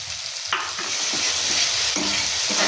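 Spices, salt, turmeric and chopped tomato sizzle loudly in a hot pan while being stir-fried for a Bengali curry, with steady frying hiss and scraping stirs throughout.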